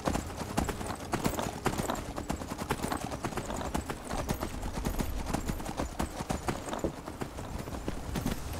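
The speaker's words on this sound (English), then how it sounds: "I don't really want my horse running in there" Galloping horse hooves in the video game Skyrim, a steady rapid clip-clop running throughout, loud and close, with occasional faint whinnying mixed in.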